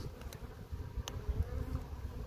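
Honeybees from a freshly caught swarm hum in a low, steady drone close by, with brief wing buzzes flicking past over the continuous hive murmur.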